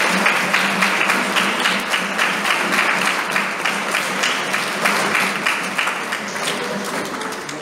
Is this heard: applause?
yes